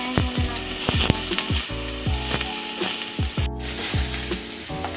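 Beef sizzles loudly in a hot pan for ginisang ampalaya with sotanghon, a steady hiss broken by repeated clanking strokes of a utensil against the pan. No one speaks.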